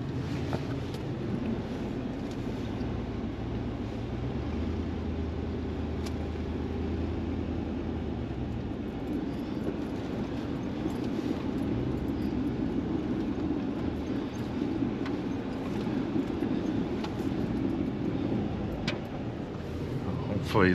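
Truck grinding up a hill in four-wheel-drive low on a hay run, a steady low engine drone with wind buffeting the microphone and occasional rattles, continuous and fairly distant-sounding.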